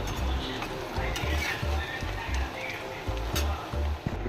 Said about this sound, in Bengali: এই দেখো আরেকটা ফিশ ফ্রাই আমি তেলে ছেড়ে দিলাম।